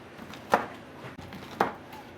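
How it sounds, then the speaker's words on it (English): A knife cuts through washed pomegranates on a board in two sharp, separate chops about a second apart, close and fairly loud in an otherwise quiet kitchen. "We're gonna chop those and de-seed."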